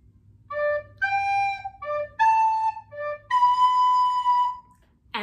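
A recorder plays a crow figure for a primary music lesson: a run of short and longer notes alternating between two pitches, then a final sustained tone, played close and alone.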